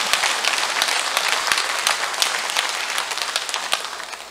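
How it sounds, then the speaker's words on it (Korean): An audience in a church lecture hall claps continuously, a dense and steady round of applause that stays close and loud throughout, with no talking over it. "어떻게 박수도 찌질처럼 칩니까?"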